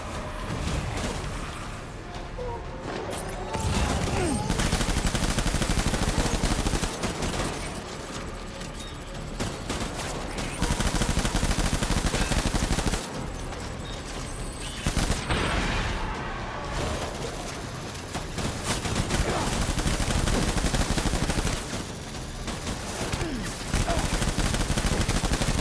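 Gunfire rings out in Death Stranding in several long bursts of rapid shots, separated by short lulls, loud and continuous through each volley.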